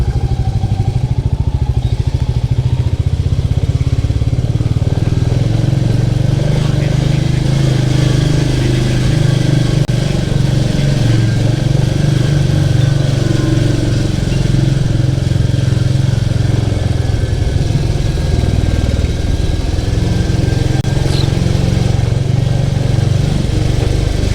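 A Royal Enfield Meteor 350 motorcycle rides through a village, its engine a loud, steady, close-up drone with rumbling low tones and wind noise throughout, no voices heard.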